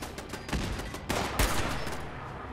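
Automated turret gunfire in the online shooter Fallout 76, heard as dense overlapping bursts of rapid shots with a couple of louder volleys, steady and sustained throughout without talk.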